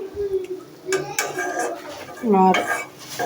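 Mango pieces and small fish sautéing in a pot, with metal utensil clinks and scraping strokes over a faint sizzle, interrupted by bursts of voice nearby.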